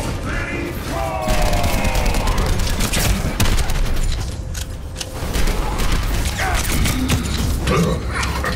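Rapid bursts of turret gunfire in the Overwatch video game, crackling and mechanical, run loud and dense throughout among explosions and clanking, with game music and effects layered over them.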